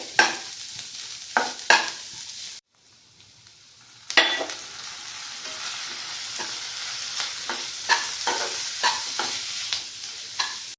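Raw turmeric with cabbage, spring onion and coriander stir-fried over medium flame in a pan, a steady sizzle with spatula scrapes and stirs, briefly dropping quiet before resuming with rhythmic scraping.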